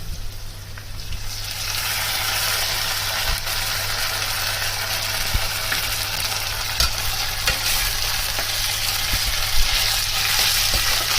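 A paste of ground spices fries with onion paste in a pan for a Bengali fish-head muri ghonto, a dense continuous sizzle with occasional stirring scrapes and clinks, close and even, with no voices.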